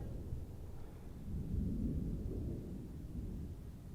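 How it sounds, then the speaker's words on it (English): Thunder at a campsite near Boulder, Colorado: a faint, distant low rumble that swells around the middle of the clip and then fades, with no talking over it. "Thunder."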